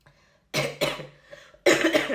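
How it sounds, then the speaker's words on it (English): Close, loud coughing in three bursts, two quick coughs, a pause, then a longer rough cough, with quiet between. "There might be some coughing in the video as well."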